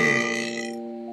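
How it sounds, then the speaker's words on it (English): A loud, drawn-out burp dropped in as a sound effect at the start of a music beat, lasting about a second over a sustained tonal backing that continues alone as the belch fades. "There's no reason for a random person to be burping at the beginning of my beat"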